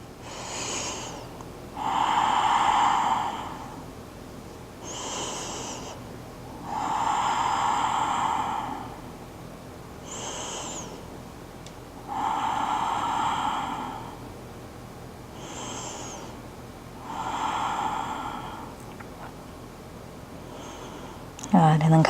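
Slow, deliberate breathing during a held yoga hip-opening pose comes as long audible breaths, each a few seconds long with short pauses between, repeating in a calm, even rhythm at close range.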